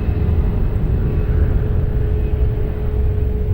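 An airplane taking off from runway 20 at Lisbon Airport: a loud, continuous low roar with a faint steady whine above it, close and strong for the whole span, with no voices.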